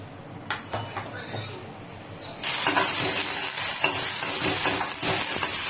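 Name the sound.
green chilies frying in oil in a pan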